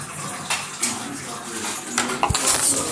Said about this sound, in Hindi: ये देखिए मैडम बर्तन धुल रही है।